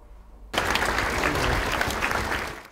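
Applause bursts out suddenly after a brief quiet and holds as a dense, loud, steady wash of many hands clapping at a justice minister's farewell ceremony.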